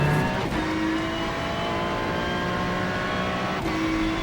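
Ferrari 296 GT3 race car in iRacing at Oulton Park International, its engine held at full throttle while accelerating, giving a loud, steady, continuous drone throughout.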